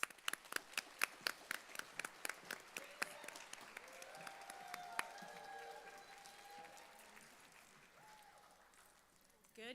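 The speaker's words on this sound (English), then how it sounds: "Let's give them a big round of applause" An audience at the Miss Indigenous Canada 2025 pageant applauds a Two-Spirit teachings presenter, opening with loud, distinct claps that blend into sustained clapping. The clapping fades gradually as faint voices and cheering rise underneath.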